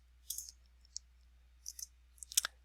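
A few soft, sharp mouse clicks, spaced apart in near silence, as OK is pressed in a function arguments dialog box on a computer.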